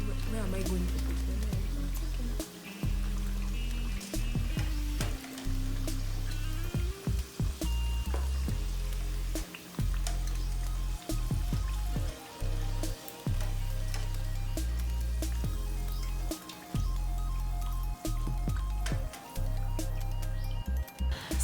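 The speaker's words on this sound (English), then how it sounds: "You need to keep stirring them in the oil." Bhajias frying in hot oil while being stirred, a steady crackling sizzle with bubbling runs throughout, close and fairly loud, with occasional knocks of a utensil and a voice speaking now and then over it.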